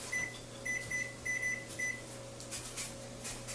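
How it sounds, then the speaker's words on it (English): A kitchen timer beeps in a steady run of short, identical electronic tones spaced evenly over about two seconds, then stops, leaving a low constant hum from a nearby appliance or air handler. "so I'll just set a timer"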